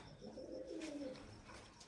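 A pigeon perched nearby gives a soft, low cooing call, faint and close, rising and falling over a couple of seconds with light background rustle.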